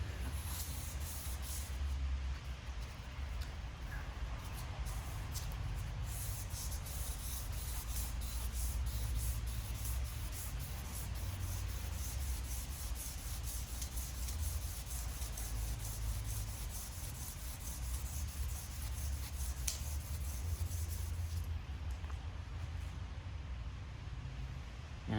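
Honda crankshaft being hand sanded with a continuous close rubbing rasp, steady back-and-forth strokes running unbroken for about twenty-five seconds with no talk.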